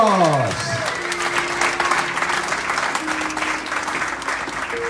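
Wedding guests at a pastors' ceremony in California break into loud, dense applause for the newlyweds, steady clapping throughout, with a voice speaking briefly at the start.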